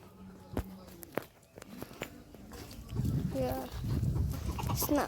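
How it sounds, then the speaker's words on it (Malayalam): Native chickens cluck in short bursts nearby in a coop, with scattered thumps and footsteps, and people talking over the latter half. "ഇത് മറ്റൊരു കൂട്ടിലെ കോഴികൾ എല്ലാ എല്ലാ നാടൻ കോഴികളാണ്"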